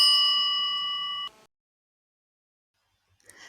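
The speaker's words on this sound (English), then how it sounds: "The phone rings." Phone ringing sound effect: a bright electronic tone rings steadily and loudly for just over a second, then cuts off abruptly into silence before a faint brief sound near the end.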